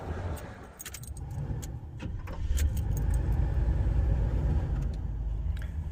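Keys jangle in an old car found left in a field, one with a cracked coolant neck, before its engine cranks and catches into a steady, low idling rumble.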